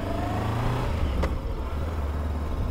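A 2023 Voge DS525 X motorcycle being ridden, its engine giving a steady, fairly loud low drone throughout with a brief higher whoosh midway.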